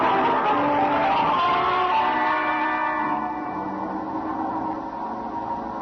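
A truck skids in an old radio drama: a dense, reverberant screech and roar fills the clip at steady loudness, then eases slightly toward the end, with no speech.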